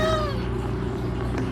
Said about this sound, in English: There are a lot of cats